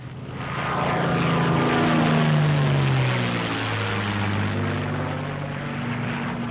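P-51 Mustang propeller fighter flying into an accelerated stall: a loud, sustained engine drone with a propeller tone that swells, then slides downward in pitch and eases off slightly toward the end.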